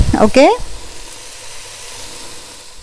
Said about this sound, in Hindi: हमारी हरी मिर्चें एंड बेल पेपर एंड बंद गोभी जो थी वो फ्राई हो गई है।